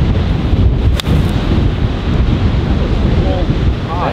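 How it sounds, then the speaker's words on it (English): Strong wind blows across an open golf course, roaring steadily and loudly against the microphone throughout, with a brief dip partway through. "wind is helping us out a little bit."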